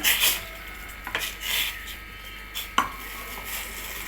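A ladle scrapes and swirls through vegetable soup in a pot, a few soft stirring strokes with light clinks against the metal.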